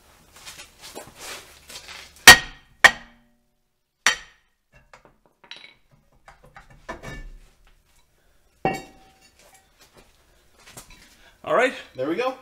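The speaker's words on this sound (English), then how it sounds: "You gotta get the big hammer out, give this thing a few hits" Sharp metallic strikes from a big hammer on a rear brake hub of a 2011 Saab 9-4x ring out, a couple of loud blows then scattered lighter knocks, followed by brief clanking and a voice near the end.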